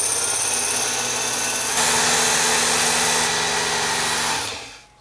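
A WorkSharp Ken Onion Edition belt knife sharpener runs loud and steady, its belt whirring with a brief shift in pitch partway through before the motor spins down at the end.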